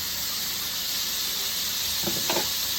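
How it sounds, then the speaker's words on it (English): A steady hiss of frying fills the clip, with a couple of brief louder sizzling crackles near the end as capers hit the hot oil in a pan. "I'm gonna add some capers. Oh, ooh, they're sizzling."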